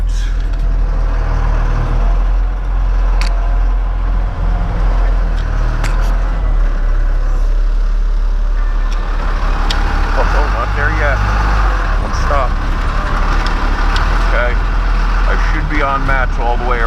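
Heavy tree-service truck rolling onto ground protection mats at a hazard maple removal site, a steady loud diesel engine rumble throughout with occasional hissing and clanks, people talking over it.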